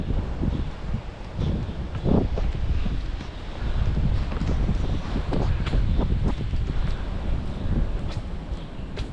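Typhoon Category 10 wind gusting through the streets of Taipa, Macau, a loud roaring buffet on the microphone with rustling and rain-like hiss that surges and eases in waves.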